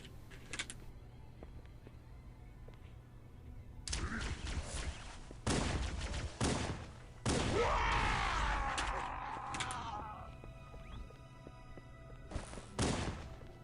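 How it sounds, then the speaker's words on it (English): Gunfire in the first-person shooter Halo: Combat Evolved, with several distinct bursts of shots separated by quieter gaps over a low ambient hum. "after that you have to start shooting."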